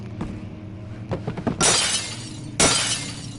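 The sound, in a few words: glass shattering in a PS4 video game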